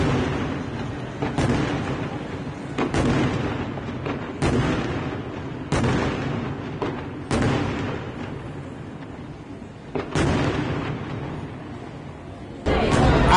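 New Year's fireworks burst over Naples near Castel dell'Ovo, a steady series of loud booming detonations about every one to two seconds, echoing across the waterfront with crowd noise beneath.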